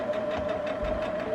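A sewing machine stitches through a quilt with minky fabric, a steady close motor whine with a rapid mechanical needle rhythm running continuously throughout.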